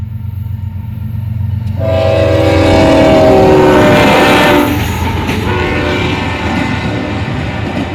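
Near and loud, an eastbound freight train hauling loaded auto racks rolls past at Deshler, sounding its horn in steady blasts over a continuous rumble of wheels and wagons.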